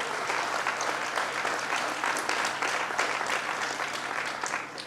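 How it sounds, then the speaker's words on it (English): Applause from an audience at a state fair event for the Agriculture Commissioner, dense and sustained clapping at an even level throughout with no talk. "Let's give him a round of applause."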